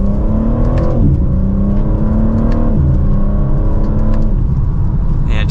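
A 2024 BMW M4 Competition Convertible pulls hard in second gear in Sport Plus mode, its engine rising in pitch, dropping briefly at each shift and climbing again, loud and close with a steady roar throughout.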